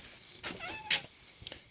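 A pet cat named Spooky gives a couple of short, close meows in quick succession, fairly soft, with no talking over them.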